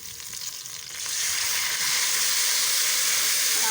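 Water splashed onto ginger-garlic masala frying in a pan sets off a sudden loud, steady hiss and sizzle that starts about a second in and keeps going. No one talks.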